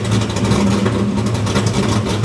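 A Ford Mustang Foxbody engine revs up under throttle, a loud, close, steady low-pitched growl with slight pulsing and no talk over it.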